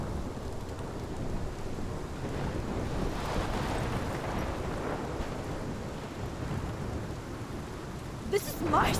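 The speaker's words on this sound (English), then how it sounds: "This is my storm. I caused this." A storm in the Life is Strange video game, with heavy rain and wind, deep rumbling thunder that swells midway, and a sharp crack near the end.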